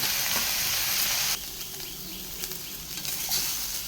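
Onions and brinjal fry in an oil-filled pan with steady, close sizzling that drops a little in the middle, then keeps crackling with faint stirring.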